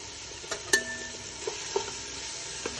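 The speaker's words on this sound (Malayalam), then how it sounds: "ഇഞ്ചി ഇട്ട് കൊടുത്ത് ഒന്ന് നന്നായി ഇളക്കി കൊടുക്കുക. എന്നിട്ട് നമുക്ക് വെളുത്തുള്ളി ഇടാം." Ginger and garlic frying in a pan for Kozhikode-style beef biryani, a soft low sizzle broken by a few light spoon taps and stirring knocks, quiet and close.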